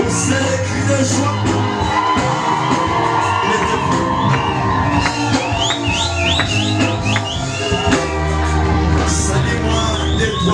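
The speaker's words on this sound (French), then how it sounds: "Vous savez les cris de joie." A large congregation at a church worship service roars with joyful cheering, whoops and shouts, loud and continuous over rhythmic music, with scattered high-pitched whistles and voices rising above the din.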